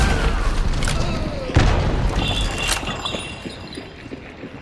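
An explosive crossbow bolt from the Hunt: Showdown video game detonates with a sharp boom, followed by a deep rumble that fades away. Faint voices and scattered game sounds are heard around it.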